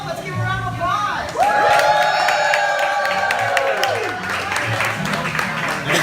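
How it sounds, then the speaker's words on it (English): A restaurant crowd at Walt Disney World cheers and whoops, with a long sustained shout rising over clapping and general crowd noise, close and loud. "Let's give a round of applause."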